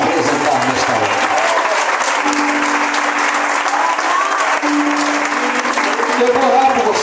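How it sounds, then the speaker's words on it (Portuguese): A church congregation at a healing and deliverance conference breaks into loud, sustained applause, a dense roar of clapping with faint voices and a held musical tone underneath throughout. "dê para Jesus a linda salva de palmas que você possa apresentar nesta hora."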